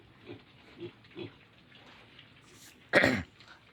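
A few soft, low grunts from a pig, spaced apart, followed by one louder, harsher snort or cough-like grunt near the end.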